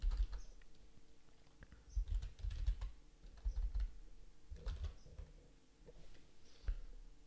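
Computer keyboard typing while a new Python file is named in a code editor, with bursts of close, crisp key clicks in short irregular runs and quiet pauses between them.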